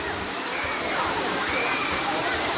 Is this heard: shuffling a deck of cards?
no